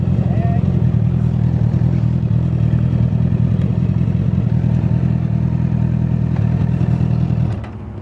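An Aprilia motorcycle engine runs with a steady, loud low rumble for about seven seconds before easing off near the end, while people talk over it.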